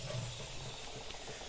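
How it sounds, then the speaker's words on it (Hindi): An Aquadart RO water filter runs its auto-flush cycle, giving a steady, moderately loud rush of flowing water with a hissing edge that continues without a break. "और साफ पानी जो है अभी ये जो है फ्लश कर रहा है, ऑटो फ्लश है इसको लगाया हुआ"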